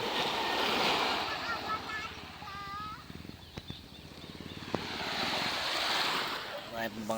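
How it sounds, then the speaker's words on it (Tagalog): Gentle surf washing onto a beach with wind buffeting the microphone, soft swells rising and falling while voices talk and children call in the background. "Kalmang kalma ang dagat ngayon."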